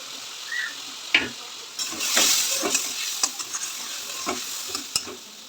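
Spoons scrape and stir through sizzling fish curry in a pan as cumin, turmeric and chili powder go in, with steady frying hiss and irregular close scraping clinks over about five seconds.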